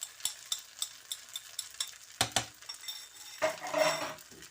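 Eggs poured into a little oil in a pan for chilli garlic egg noodles, with soft clinks and stirring scrapes that build into a brief sizzle near the end, close and fairly quiet.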